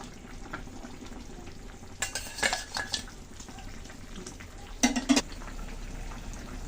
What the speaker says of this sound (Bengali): মাছ দিয়ে দিচ্ছি, দেখুন ভেজে রাখা মাছগুলো এখন দিয়ে দিলাম।